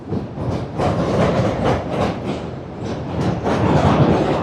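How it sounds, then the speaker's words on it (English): A train rolls steadily past at close range, its broad rumble and rhythmic clatter of wheels filling the whole stretch and swelling slightly toward the end, with no talk over it. "The train is literally coming through."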